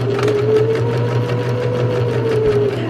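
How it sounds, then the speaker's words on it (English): A sewing machine runs continuously up close, understitching a seam at regular stitch length, with a steady motor hum and fast rhythmic needle clatter. "what you want to do is stitch that seam down, which is known as understitching"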